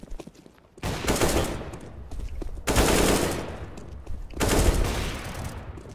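AK rifle fire in Counter-Strike on Dust 2 comes in three loud, close automatic bursts separated by short gaps, with no talking over the shots.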